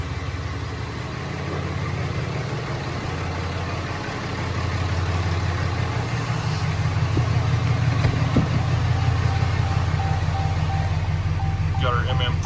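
A 2018 Ram pickup's Cummins diesel idles steadily with the exhaust brake engaged, a loud low rumble that swells slightly after a few seconds and runs continuously alongside occasional talk.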